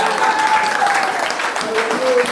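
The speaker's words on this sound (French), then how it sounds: "Applaudissons pour le Seigneur." A church congregation applauds steadily during a worship service, a dense, continuous wash of clapping with a sustained tone and voices running through it.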